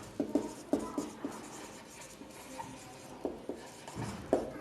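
Chalk or marker writing the word displacement on a classroom board, producing rhythmic scratchy strokes and taps in short bursts, moderately close, with no talking.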